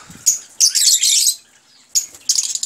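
Pet lovebirds and cockatiels chirping in a small home setup, bright high chirps and squawks coming in dense bursts with short pauses between them, close and fairly loud.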